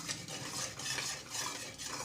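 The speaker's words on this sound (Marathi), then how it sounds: "पुन्हा छान मिक्स करून घ्यायचं" Continuous stirring in a heavy-bottomed pan, a spoon scraping and swishing through a thick cashew Mysore pak mixture with ghee in quick, even strokes, close up with no talking.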